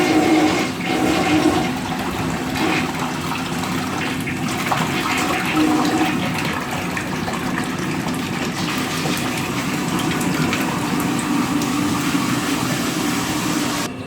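A 1964 wall-hung toilet flushing, a steady rushing gush of water that holds loud and even for the whole stretch with no voices.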